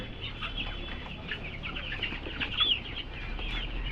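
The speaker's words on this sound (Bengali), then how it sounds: "মুরগিগুলো খুব সুন্দরভাবে খাওয়া দাওয়া করছে" Broiler chickens cluck and chatter steadily while feeding in a poultry shed, a dense, fairly close flock murmur with scattered brief calls and no talk.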